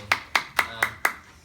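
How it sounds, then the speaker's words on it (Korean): Five sharp, evenly spaced hand claps, close and distinct, from an audience at a free smart-work training class, each one decaying quickly before the next. "박수 좀 쳐주세요."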